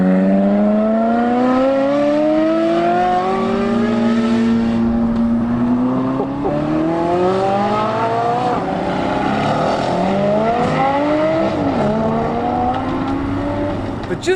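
Supercars and hypercars at a UK car show, their engines roaring and revving up in long rising sweeps, loud and close, with several pulls one after another and no pause.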